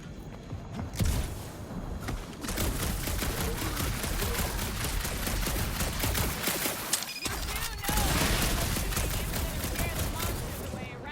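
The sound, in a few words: gunfire from shooting in the Guardians of the Galaxy video game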